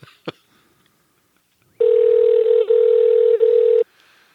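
A steady telephone dial tone holds for about two seconds with two brief dips where keys are pressed, after a short click near the start; no talking.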